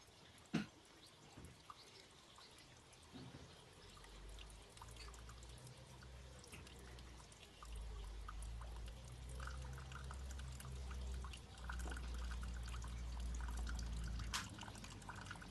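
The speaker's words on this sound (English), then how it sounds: "you might hear a little bit of water flow" Water flowing and trickling steadily with occasional pouring and dripping, quiet and continuous, with a low rumble swelling in the background partway through.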